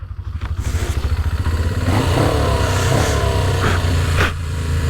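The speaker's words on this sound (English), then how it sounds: "Turn the ignition on, put some choke on and start it up." A Suzuki GS500 motorcycle engine with its top end rebuilt cranks over and fires up on choke, settling into a steady, loud, clattery idle close by with no talking.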